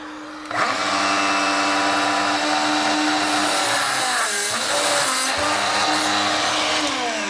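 A DeWALT 20V MAX 7-1/4-inch cordless sliding compound miter saw cuts through wood. The motor spins up and holds a loud, steady whine for about seven seconds, with the pitch shifting as the blade works through the cut.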